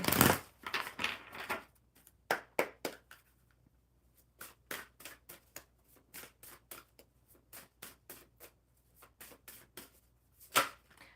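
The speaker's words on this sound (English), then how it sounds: "One more real good shuffle. They're just so large that they slip and slide." Oversized cards being shuffled by hand, close and quiet, producing a string of short riffling, slipping and slapping bursts with brief pauses between them.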